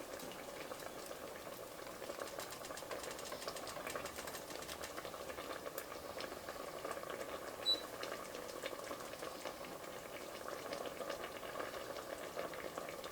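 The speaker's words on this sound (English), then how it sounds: "so that's been simmering for about a minute" Pear chutney with raisins simmers in a pot, giving a soft, steady bubbling hiss that continues evenly throughout with no talking.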